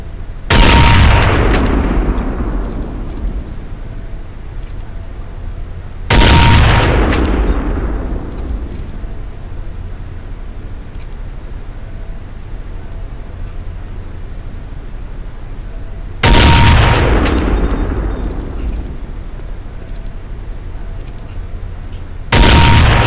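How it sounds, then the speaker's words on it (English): Sniper rifle shots in Counter-Strike: Condition Zero training, four loud sharp cracks spaced several seconds apart, each with a long booming decay that trails off into quiet room tone. "All sniper rifles can zoom in on a target using the secondary fire key. Engage all the targets to continue."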